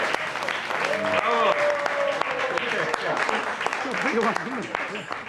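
A crowd claps and cheers after a toast at a celebration, with sustained applause under a voice that rises and falls over it.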